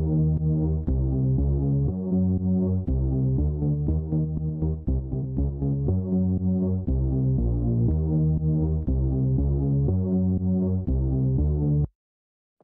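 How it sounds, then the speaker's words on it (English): A trap beat made in FL Studio plays with a reversed second beat and stutter effect, giving a loud, throbbing, looping pattern with choppy repeats that cuts off abruptly near the end. "I reversed second beat and add stutter effect."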